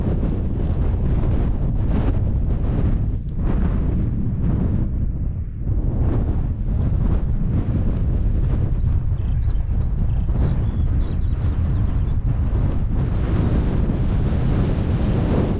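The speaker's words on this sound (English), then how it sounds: "It's not too cold, but just, yeah, very breezy." Strong wind on an exposed fell top along the Kentmere Round near Grey Crags roars steadily into the microphone throughout, a loud continuous buffeting rumble with gusty surges and no voices.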